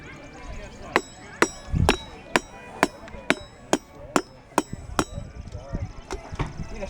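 At an 18th-century market fair forge, a blacksmith hammers a metal ring into shape with about a dozen sharp, ringing strikes in a steady rhythm, close and loud over low background murmur.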